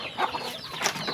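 A young rooster near its pen gives a quick burst of clucking calls, close and moderately loud, over about a second with no one talking.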